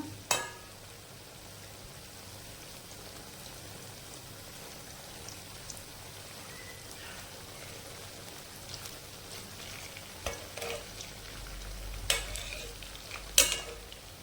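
Magur catfish pieces fry in a pan with a continuous crackling sizzle, faint and even, with occasional louder pops and utensil scrapes near the end.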